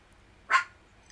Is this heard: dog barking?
yes